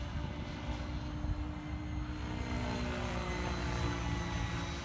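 Goblin RAW RC helicopter in flight, a continuous buzzing rotor and motor drone at moderate distance, fairly quiet and steady with no voices.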